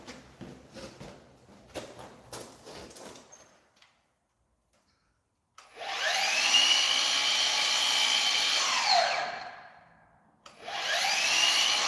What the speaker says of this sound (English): So now we got to cut off from that line right there